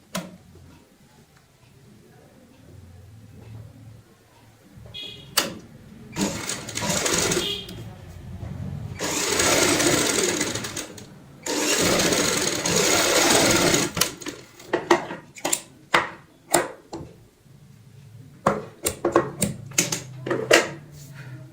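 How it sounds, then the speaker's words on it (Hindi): Sewing machine stitching a fabric strip onto a cushion cover, running in several loud bursts of rapid whirring, separated by sharp clicks and handling taps at close range. "अब हम चौथी सिलाई यहाँ पे इस तरीके से आएगी।"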